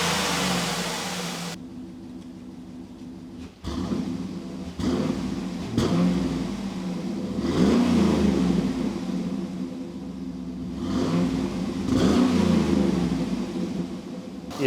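A cheap auction-bought Cadillac Escalade is driven while its engine rumbles and revs repeatedly in rising and falling surges. The sound is steady and close, with no talking.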